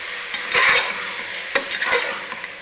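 Tomato paste fries and sizzles in a pot for mutton biryani while a spoon stirs it, with steady close sizzling and a few scraping stirs.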